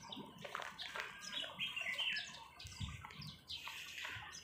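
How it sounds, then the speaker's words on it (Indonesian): Birds chirping outdoors in a rural setting, with bright, brief calls and twittering over a faint, watery background; no voices. "Burung-burung berkicauan."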